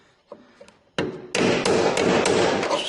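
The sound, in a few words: hammering to break a spot weld loose on Bronco panel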